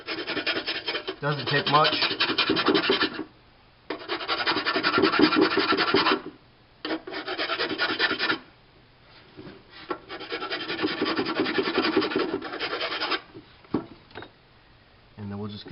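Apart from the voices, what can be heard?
filing the edge of an LED pushbutton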